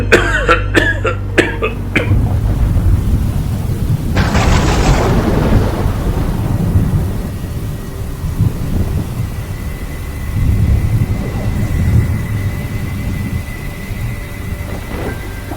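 A thunderstorm: sharp thunder cracks at the start, then steady rain and low rumbling that keeps going throughout.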